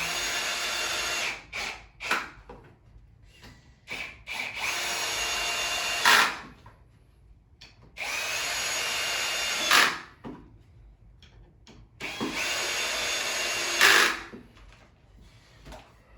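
A power drill drives 2-inch screws into a wooden Montessori climbing triangle in four loud bursts of about two seconds each, spaced by short quiet gaps with faint handling knocks and no speech.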